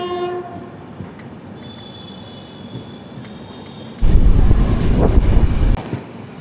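The 16334 Trivandrum Veraval Express runs between Rajkot and Veraval, its horn sounding briefly at the start before a loud burst of wheels and rumbling cars passing close by, then fading back to a steady hum.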